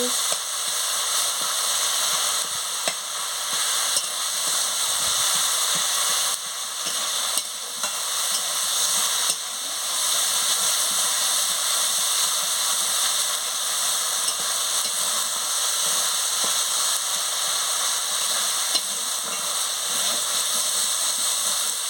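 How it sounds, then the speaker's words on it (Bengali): Chili and turmeric powder frying with spices in a pan: a steady, dense hissing sizzle close up that runs unbroken for the whole stretch, with faint stirring scrapes and no voices. "পরিমাণ মতন হলুদের গুঁড়ো দিয়ে দিচ্ছি দিয়ে ভালো করে মশলাটাকে ভেজে নিচ্ছি"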